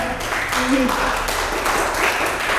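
Applause from an audience at a poetry anthology talk, a steady wash of clapping throughout with a brief voice heard underneath near the start.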